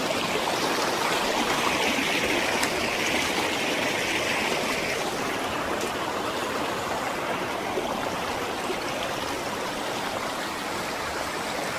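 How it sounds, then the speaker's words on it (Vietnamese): A clear stream flows over rocks through primeval forest in Chu Mom Ray National Park, Vietnam. It makes a steady, close, full rushing and burbling that stays even throughout, with no voices. "Rừng nguyên sinh, suối giữa rừng nguyên sinh."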